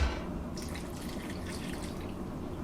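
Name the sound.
water being added to Afang soup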